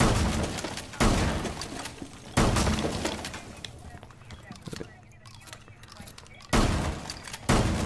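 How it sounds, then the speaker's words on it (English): Walls being blown apart in the tactical shooter Rainbow Six Siege, with loud crashing bursts of breaking debris at the start, middle and end, and quieter crumbling and clatter in between. "So what we're going to do is destroy this wall."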